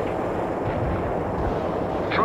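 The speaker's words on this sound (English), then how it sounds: "Feuer! Firing for effect." Artillery firing in the World in Conflict strategy game: a dense, continuous low rumble of heavy guns and booming impacts, loud and close, with a sharper burst at the very end.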